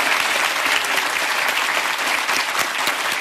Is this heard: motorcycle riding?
no